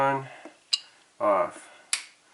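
Nissan Rogue EVAP vent solenoid, connected to a small test hose, clicking as it is commanded on and off: a few sharp, close clicks, with brief voice sounds in between.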